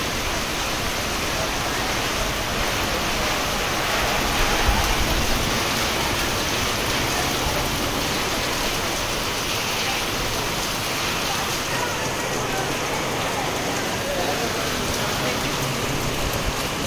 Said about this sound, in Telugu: వర్షం పడుతుంది అసలు